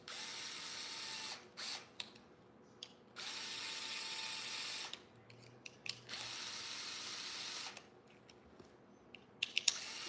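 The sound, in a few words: screwing down screws on Traxxas Sledge RC parts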